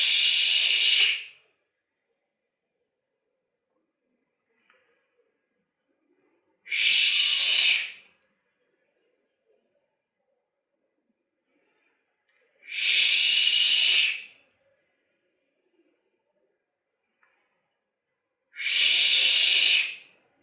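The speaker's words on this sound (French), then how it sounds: "On peut le faire avec le son ch, ch, qui est le son du foie" Four long hissing 'ch' exhalations from a qigong breathing exercise, evenly spaced about six seconds apart, each a loud, close breathy rush separated by quiet inhalation pauses.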